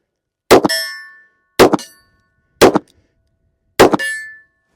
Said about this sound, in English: I was hitting the steel at about 22 yards